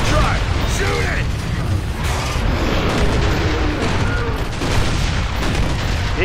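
Continuous battle noise from the Gears of War 2 video game, with dense, loud gunfire and booming impacts running throughout under excited talking.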